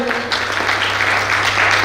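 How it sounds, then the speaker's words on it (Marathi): An audience at a college felicitation ceremony claps in a dense, steady burst of applause heard close and loud throughout. "याबद्दल पुन्हा एकदा जोरदार टाळ्या वाजवा."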